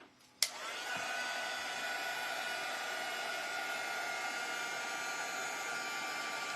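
A hair dryer switches on with a click and blows a steady, loud whooshing stream of air to dry a friction pen painting.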